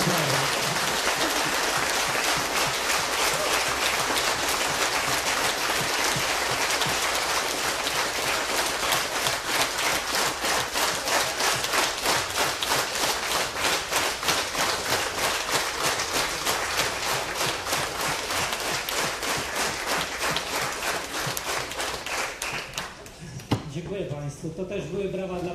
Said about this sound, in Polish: Panie profesorze, to też dla pana brawa.